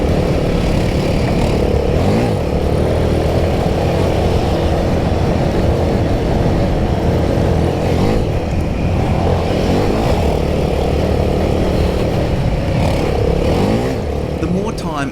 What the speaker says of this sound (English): I just love hitting water at speed and wetting mates